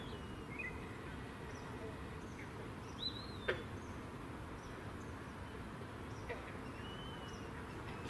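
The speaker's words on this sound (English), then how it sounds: "That peewee almost sounds sad." A pewee gives faint, distant, slurred whistled notes over a constant outdoor hiss, with a couple of other brief chirps mixed in.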